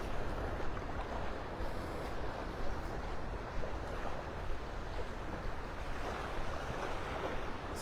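Surf rolling steadily onto the mile-long sandy beach at Delnor-Wiggins in North Naples, Florida, a continuous broadband wash of breaking waves with some wind noise, no voices heard.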